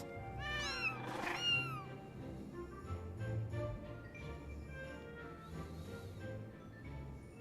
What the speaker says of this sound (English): he gets reunited with his kitties